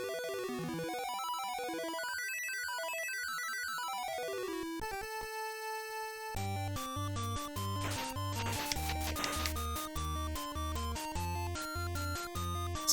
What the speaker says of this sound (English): Now I can play the harp, and it sounds like this.